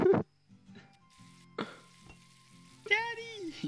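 A burger sizzles on a stove in the video game Octodad: Dadliest Catch, a steady low frying hiss running under short bursts of voices and a brief tonal game sound near the end.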